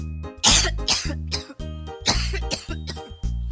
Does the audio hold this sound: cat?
no